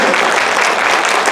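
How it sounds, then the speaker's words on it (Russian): Loud, close audience applause at a folk ensemble concert in a house of culture, continuous dense clapping with no pause. "Аплодисменты."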